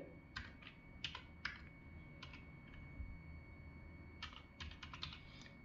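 Keys clatter on a computer keyboard in short bursts of quick taps separated by pauses, close and fairly faint over a low steady room hum.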